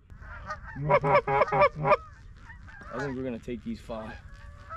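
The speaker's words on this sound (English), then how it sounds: "These are big geese." A flock of Canada geese landing during a Pennsylvania goose hunt: loud, close, repeated honks in quick bursts, then a second cluster of calls, with someone speaking briefly between them.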